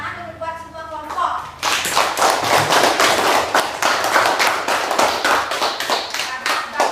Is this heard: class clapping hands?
yes